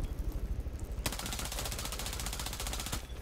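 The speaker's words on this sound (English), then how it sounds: "Someone's shooting from here." Rapid automatic gunfire from the shooter game Rainbow Six Siege, a brief pause and then a long, loud, evenly spaced burst of shots that continues nearly without a break.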